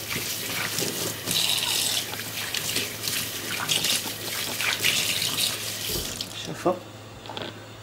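Hand-washing blood stains out of fabric under a running tap, with steady water splashing into a sink throughout, a brief lull near the end, and a voice talking faintly beneath it.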